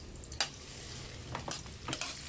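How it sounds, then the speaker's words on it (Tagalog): Garlic and onion sautéing in oil in a pan, a soft steady sizzle with a few sharp scraping stirs of a utensil, close by. "Magigisa ako ng bawang at sibuyas."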